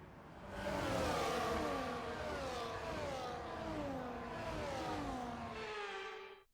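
Formation lap of F1 cars in F1 24, several engines whining and rising in pitch together as they drive off, steady and fairly close, fading out at the end.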